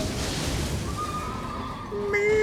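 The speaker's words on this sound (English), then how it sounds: "Played the sound like I got knocked off my horse" Horse neigh sound effect from the Elden Ring video game, a single whinny with rising and falling tones heard over a steady, busy game background, ending in a brighter high-pitched cry near the close.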